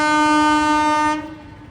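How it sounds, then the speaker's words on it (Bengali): A loud, sustained horn blast from a train passing beneath a bridge, with a steady, rich tone, holds for about a second, then cuts off, leaving faint rumbling behind. "আর একটা রেলগাড়ি আসছে দেখো"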